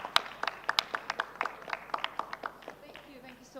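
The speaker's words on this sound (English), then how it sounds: "thank you for the thunderous applause as well" A small group claps at a retail jeweller forum in India, a sparse, uneven patter of individual hand claps close by that thins out toward the end.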